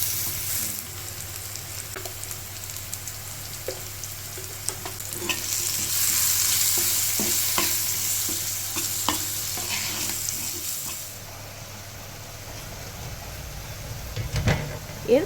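Potato pieces fry with salt and turmeric in a pan, a steady sizzle running throughout with scraping stirs, getting louder toward the end.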